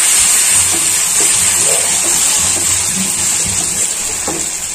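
Cumin and red chili powder frying in a pan for baingan bharta, a steady bright sizzle and hiss that stays loud and close throughout, with faint stirring underneath and no voices.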